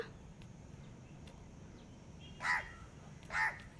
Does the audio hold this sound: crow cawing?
yes